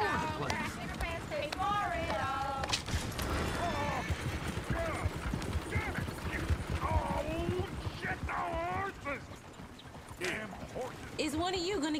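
Horse hooves clatter in a rhythmic run in Red Dead Redemption 2 around Valentine, a busy close clip-clop under almost constant talking voices and game ambience.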